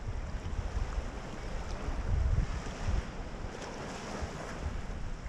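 Ocean surf rolls onto a beach with a low, steady rumble, while wind buffets the microphone; no one speaks.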